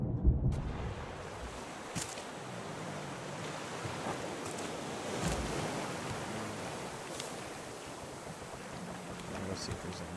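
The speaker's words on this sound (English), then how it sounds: "the waves keep throwing us away from the island" Ocean waves in the Raft survival video game wash and surge in a continuous broadband roar, with wind-like rushing and a few soft splashes, steady and fairly close with no voices.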